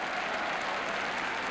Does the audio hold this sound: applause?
yes